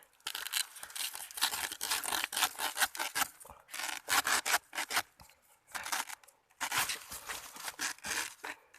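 A knife slicing and shaving tender young bamboo shoots outdoors, heard as a long run of close, dry rasping and scraping strokes in quick bursts with short pauses between them.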